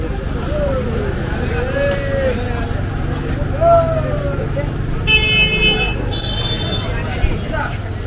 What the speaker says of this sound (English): Looks like we've hit a bit of a traffic jam here.